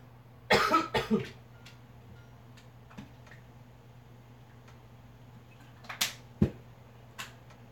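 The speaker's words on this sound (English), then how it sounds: "This cough is really bothering me." A person coughs a few times in quick succession, then a pause, then a couple more coughs, close to the mic with ticking or tapping noises between, during a Battle Bay gaming livestream.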